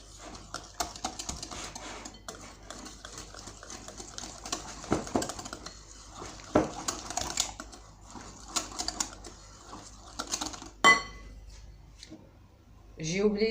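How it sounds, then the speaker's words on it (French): Egg yolks being whisked with sweetened condensed milk in a bowl for a coconut flan, a run of quick clinking utensil taps against the bowl, with short pauses and a few louder knocks near the end. "On va mélanger les jaunes d'œuf avec le lait concentré."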